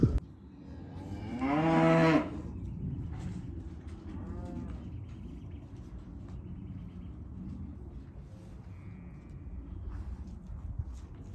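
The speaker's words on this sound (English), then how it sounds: "These calves, there's 2 calves in here with cows, or 3 cows with calves." A cow penned with calves on a farm gives one loud, close moo lasting about a second, followed by a quiet barn background with faint shuffling.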